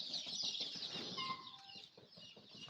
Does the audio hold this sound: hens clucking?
yes